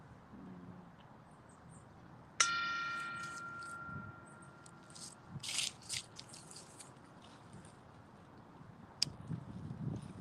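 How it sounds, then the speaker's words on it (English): A bell is struck once to open a prayer at an outdoor church service, giving a sharp strike and a clear ringing tone that fades over about two seconds. Faint rustles and taps follow, and there is no talking. "I'll invite the bell to sound."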